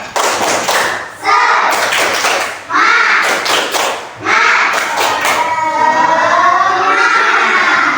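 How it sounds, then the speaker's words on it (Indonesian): A classroom of fourth-grade schoolchildren performs the rhythmic tepuk semangat spirit clap, with bursts of patterned clapping alternating with loud, chanted group voices, close and lively throughout. "tepuk semangat dulu ya"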